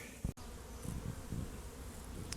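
Honeybees buzz around an open hive during requeening, a dense, steady hum close by, with a brief handling knock near the start.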